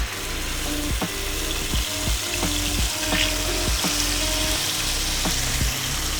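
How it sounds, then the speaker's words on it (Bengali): Chicken pieces go into a hot frying pan with sunflower oil and sizzle with a steady, close frying hiss that lasts the whole time, punctuated by regular clinks and knocks from the pan, with no talking. "ফ্রাই প্যানটা গরম হয়ে গেছে, জাস্ট এবার আমরা চিকেনগুলো এইভাবে দেবো।"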